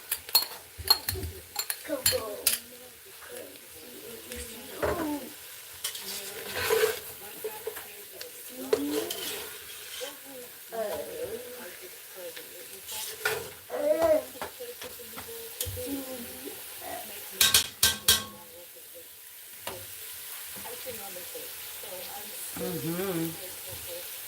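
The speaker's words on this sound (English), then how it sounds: "Go ahead and add the onions." Onions for corned beef hash sizzle steadily in a hot pan while a utensil stirs and scrapes against it with intermittent clinks, close and continuous, with occasional voices talking over the frying.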